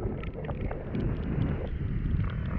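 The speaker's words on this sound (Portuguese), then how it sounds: "Vento gelado, rapaziada, aqui em Soledade." Cold wind gusting outdoors in Soledade, Rio Grande do Sul, in rainy weather, a loud, continuous rumbling roar buffeting the microphone throughout, close and steady, with no one talking.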